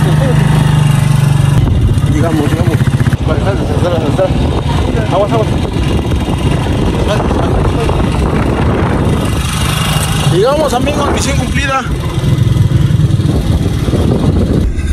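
A motorcycle engine runs close and loud in a steady, unbroken drone for the whole stretch, while people talk and shout over it.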